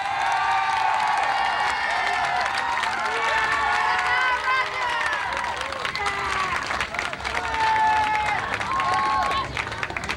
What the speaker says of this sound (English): A good round of applause for our third place winner, Roger Blinoff.